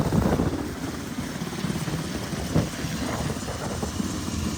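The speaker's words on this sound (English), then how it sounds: "That Black Hawk now lifting back off." A Black Hawk helicopter lifts off near a hospital during a rooftop evacuation shuttle, a steady rumbling rotor and engine drone heard at a distance with wind buffeting the microphone, holding level throughout.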